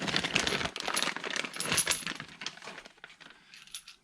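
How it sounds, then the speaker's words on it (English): Metal lug bolts are handled and fitted into a billet aluminum hub on front drag brakes, giving close metallic clinks and jingling taps that fade toward the end, with no talk. "we need to install our lug bolts, followed by the rotor hat"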